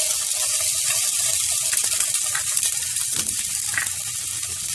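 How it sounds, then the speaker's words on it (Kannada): Onions frying in hot oil in a heated pan, for bread omelette, make a steady, dense sizzle throughout, with a few light stirring clicks and no talk. "ಬಿಸಿಯಾಗಿರೋಂಥ ಪ್ಯಾನ್ಗೆ ಸ್ವಲ್ಪ ಎಣ್ಣೆ ಹಾಕೋಣ. ಎಣ್ಣೆ ಹಾಕ್ಬಿಟ್ಟು ಸ್ವಲ್ಪ ಆನಿಯನ್ ಹಾಕೋಣ."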